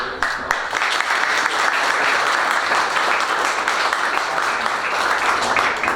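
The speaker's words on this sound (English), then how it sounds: "I did want to give another round of applause to all of our nominees." A room full of guests at an outstanding educator awards event applauds the nominees, a sustained, even burst of many people clapping throughout, fairly close and loud.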